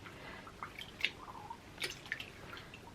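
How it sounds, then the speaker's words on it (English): Knitted items such as socks, hats, garments and shawls lowered into a bowl of water for wet blocking, giving a few faint drips and soft splashes scattered across a quiet background. "I'm just going to pop the items carefully into the water."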